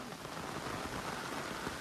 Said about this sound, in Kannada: ಮಳೆ ನೋಡ್ರಿ ಎಷ್ಟು ಬೀಳತೈತಿ ಅಂತ ಹೇಳಿ